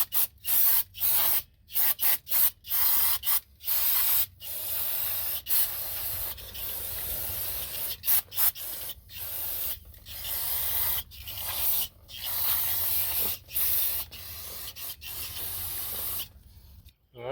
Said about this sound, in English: make sure you hit it with a brake cleaner, so you don't want any penetrant to go on your brake pads